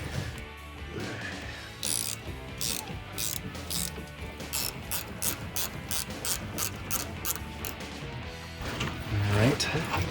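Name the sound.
ratchet loosening a Tacoma rear leaf spring bolt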